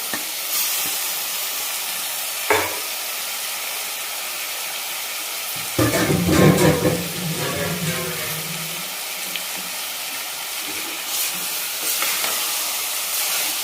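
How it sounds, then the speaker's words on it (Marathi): Mutton frying uncovered in a pan over a high flame, with a loud steady sizzle and hiss, a burst of vigorous stirring and scraping in the middle, and brief quiet talk around it. "5 मिनिट आपल्याला न झाकता असंच आपल्याला शिजवून घ्यायचे, म्हणजे फ्राय करून घ्यायचे"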